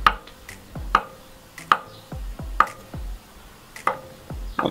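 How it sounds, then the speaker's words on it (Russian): Hard-boiled eggs are cut into cubes with a knife on a board, giving a series of sharp, close, distinct taps at a fairly regular rhythm, roughly one or two per second, with quiet gaps between them. "Вот таким образом нарезаем все яйца."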